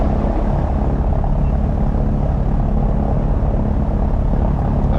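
A Piper Aztec twin-engine aircraft runs on a cold day with a loud, steady propeller drone and deep rumbling throb, close and unbroken throughout.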